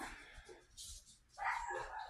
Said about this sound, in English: Dogs heard something outside.